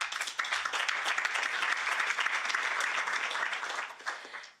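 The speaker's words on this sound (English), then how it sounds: "So please, a round of applause for Beatrice Corsi." An audience at a conference in Brussels applauds a speaker, steady moderate clapping from a room of people that tapers off at the end.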